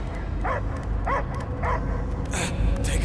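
Video game Guardians of the Galaxy: a dog gives three evenly spaced whining barks, then a few sharper yips, close and clear over a low rumbling game ambience.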